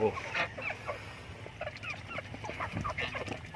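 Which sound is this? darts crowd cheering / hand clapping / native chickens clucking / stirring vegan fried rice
native chickens clucking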